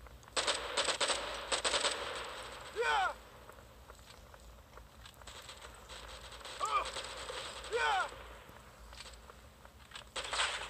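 Gunfire in a shooter video game comes as bursts of rapid automatic shots and crackling, with metallic reload and mechanism clicks between them, fairly close and moderately loud amid game noise.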